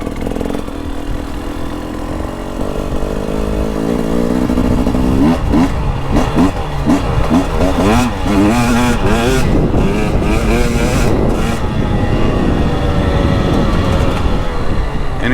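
A KTM 300 two-stroke TBI dirt bike engine, a 2023 300XC, revs hard and loud with a buzzy, continuous rasp that climbs and falls in repeated throttle pulls, with no talk.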